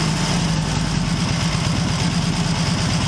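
An Excelsior Henderson Super X motorcycle engine idling close up, a steady, slightly lumpy low throb with a constant mechanical vibration and no speech.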